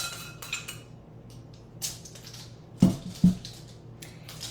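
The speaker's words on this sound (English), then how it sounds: "And stir that into my mixture here." A spoon stirs thick chia egg into pumpkin maple cookie mixture in a bowl, giving soft scattered scrapes and a couple of sharper knocks against the bowl, quiet and close with no talk.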